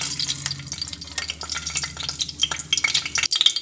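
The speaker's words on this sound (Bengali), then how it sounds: "বড়িগুলো ভাজা হচ্ছে।" Lentil badi fry in hot oil, giving a steady, close sizzle broken by crackles and the scrape and clatter of stirring, with no talk.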